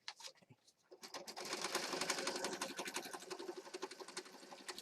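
A sewing machine stitches a mixed-media junk journal, its rapid steady needle chatter starting after a second of scattered handling noises and running continuously, close and moderately loud.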